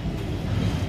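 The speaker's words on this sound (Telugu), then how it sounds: "ట్రైన్ మీద వెళ్తున్నాం మనం, మామూలుగా లేదు కదా" A passenger express train runs slowly along the tracks near Madgaon in South Goa beside a beach, giving a steady low rumbling of wagons on the rails with a brief louder knock at the end.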